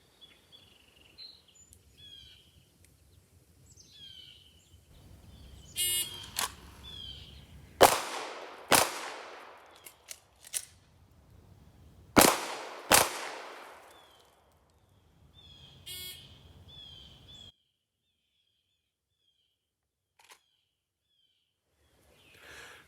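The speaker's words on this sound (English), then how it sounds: "the shooter has to draw and fire 2 rounds to the body of the target" Glock 19 pistol fired in a law-enforcement qualification course outdoors: a few sharp, loud shots in irregular pairs and singles, each with a brief echo, separated by quiet gaps and faint background birdsong.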